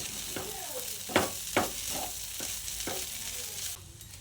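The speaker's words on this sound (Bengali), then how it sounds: "ঢাকাটা খুলে ভালো করে নেড়ে চেড়ে নিচ্ছি" Soybean momo filling stirred and tossed in a frying pan, quiet sizzle under a series of scraping spatula strokes, a couple of them louder knocks.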